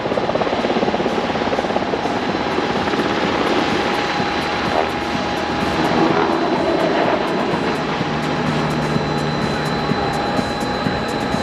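An MH-60R Seahawk naval helicopter holds a hover and backs off, its steady loud rotor and turbine roar continuous and close throughout, with a constant whine over the broad wash of noise.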